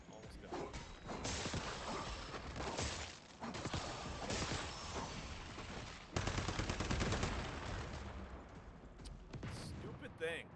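Gunfire in Once Human during the Securement Silo fight: bursts of rapid shots and clattering mechanisms, loud and close, with someone talking between and over the shooting.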